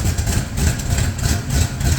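The engine of a 1965 Plymouth Fury idles close by, a loud, steady low rumble with a slight rhythmic pulse and no pauses.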